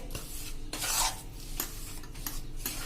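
A spoon stirs a thick jaggery mohanthal mixture in a pan, giving close, irregular scraping and rubbing strokes with a few metallic clinks, with no voices.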